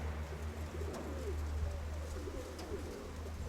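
Pigeons coo softly at a steady moderate distance, mixed with light chirps over a constant low outdoor rumble; a dark grey bird is among the flock flying overhead.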